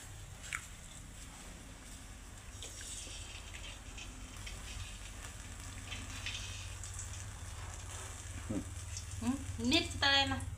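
Chillies frying in a small ladle, a soft steady sizzle low in level, with clinks of utensils and splashy bursts near the end while people talk in Marathi nearby.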